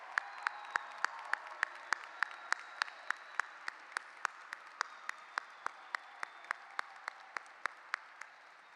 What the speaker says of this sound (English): Let's have a big round of applause for all of our Bachelor of Science graduates.